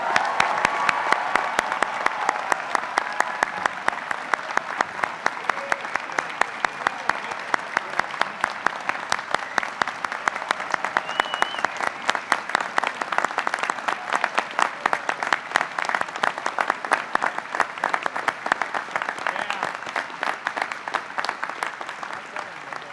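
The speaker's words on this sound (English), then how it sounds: "Let's hear one more round of applause for the new graduates." Crowd in a courtyard diploma ceremony at a business school graduation applauds the new graduates, with steady, dense clapping sustained for over twenty seconds and sharp individual claps standing out near the recording point.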